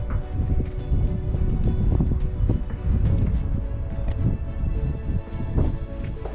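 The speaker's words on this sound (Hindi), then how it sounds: "बहुत हवा चल रही है यार अब तो।" Strong wind blowing at the Saspol caves in Ladakh, buffeting the microphone in a steady, dense roar with gusty rumbles and rustling throughout.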